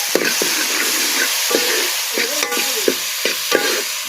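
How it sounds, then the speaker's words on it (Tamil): Steady sizzling of tomatoes sautéing in a pan, with occasional stirring scrapes and clinks, close and continuous. "இன்னும் முந்தைய தக்காளி வதங்கிக்கிட்டே இருக்கு"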